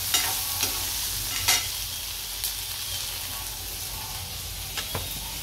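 Gravy ingredients sizzle steadily in a hot pan, broken by several sharp scrapes and clicks of a stirring spoon, close and without speech.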